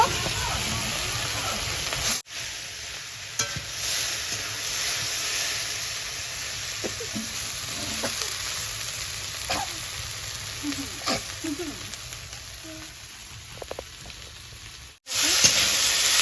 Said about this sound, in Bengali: কচুর লতিটাকে নেড়ে চেড়ে ভালো করে ভেজে নেব